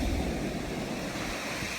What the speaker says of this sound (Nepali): यस्तो हावा यस्तो चिसो छ